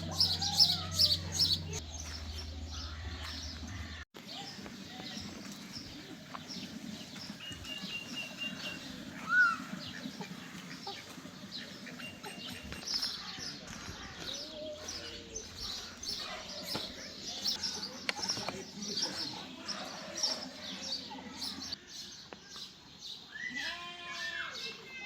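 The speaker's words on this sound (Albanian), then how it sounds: "Papagalli me ngjyra." A colorful parrot at a farm gives faint, intermittent chirps and squawks over quiet outdoor ambience, most noticeable at the start and end, with occasional distant voices.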